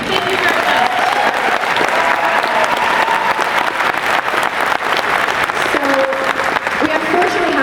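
A convention panel audience at Planet Comicon in Kansas City breaks into loud, sustained applause filling the hall, with a voice speaking over the clapping.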